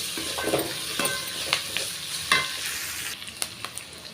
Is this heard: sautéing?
yes